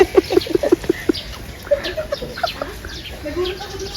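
A chicken at a crocodile park and zoo lets out a rapid series of loud, close clucks, then quieter scattered calls while people talk nearby.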